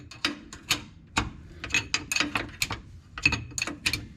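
A hand tool ratchets in quick irregular clicks while a part is tightened down on a 1961 VW Beetle engine, close, crisp and moderately quiet, no voices.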